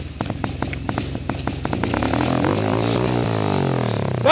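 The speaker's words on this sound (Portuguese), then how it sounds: "Ó, essa motinha aqui." A small motorcycle engine on a dirt trail hums close by, its buzzy note climbing steadily as the throttle opens.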